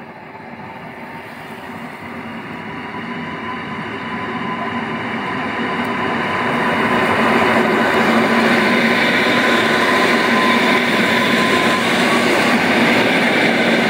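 The Mieszko passenger train pulls into Rawicz station in the evening, a broad rolling rumble and rail noise that grows louder over the first several seconds, then holds steady and close with no voices.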